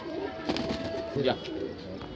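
Pigeons of the Hazare wali breed, including a white-beaked, black-eyed, black-tailed female, coo softly in short bursts near and far, under an ambient hum with a faint voice in the background.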